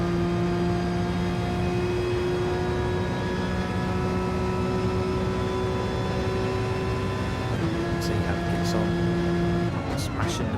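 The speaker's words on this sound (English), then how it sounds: "You can hear the whine of the gearbox." A steady, high mechanical whine from a GT race car gearbox holds loud and constant over engine drone in a sim racing qualifier, shifting pitch briefly near the end as the car changes gear.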